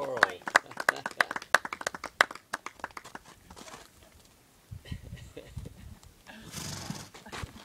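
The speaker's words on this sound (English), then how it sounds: "Round of applause for Zorro." At a horse riding clinic, a crowd of onlookers claps in a quick burst of applause that fades, followed by quieter movement and a voice speaking.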